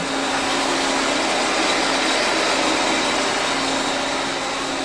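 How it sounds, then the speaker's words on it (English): Bandsaw running in a metal workshop where rusty steel tubing is being cut, a steady, loud whirring hiss with a fixed hum, unchanging and without talk. "Right now, I've got the bandsaw running."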